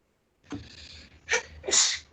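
A single close sneeze: a sharp intake followed by two bursting exhalations, in an otherwise quiet room.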